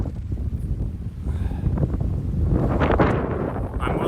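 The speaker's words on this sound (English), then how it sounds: "I have to take the hat off right now because it's so windy." Strong wind buffets the microphone on a climb of Rysy, Poland's tallest mountain, a loud, continuous low roar and rumble that swells toward the middle and stays steady throughout with no talking.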